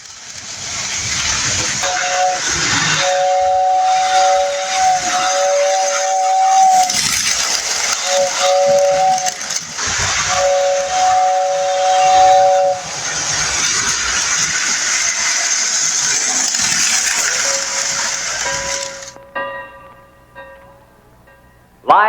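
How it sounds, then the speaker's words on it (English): A Lionel toy train's steam whistle blows in several bursts, some long and some short, over loud continuous hissing steam. "So fire up those whistles"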